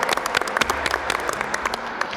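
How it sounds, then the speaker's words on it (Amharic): Audience applause at an Adwa victory celebration quiz show held in the Adwa Museum, steady dense clapping from a crowd filling the whole stretch at moderate loudness. "አጨብጭቡላቸው።"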